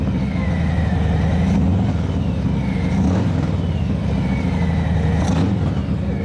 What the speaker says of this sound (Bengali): এই যে এক্সস্ট না, এক্সস্ট থেকে যে সাউন্ড আসতেছে ভাই, অসাধারণ সুন্দর